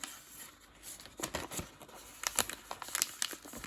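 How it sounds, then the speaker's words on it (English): Wrapping paper folded around a piece of vegan Christmas cake, giving crisp crinkles and crackles in bursts that grow busier toward the end, close and alone. "Then you can fold the wrapping paper."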